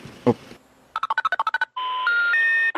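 A mobile phone call being dialed: a brief voice fragment, then a quick rapid series of keypad tones, followed by steady electronic call tones that step upward in pitch, all heard up close.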